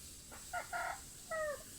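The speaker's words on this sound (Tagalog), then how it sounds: "Ito pa mga idol, ang laking manok." A large, heavy chicken on a hillside farm gives a few short, clear clucks and a brief drawn-out call in quick succession, fairly faint and distant against a quiet outdoor background.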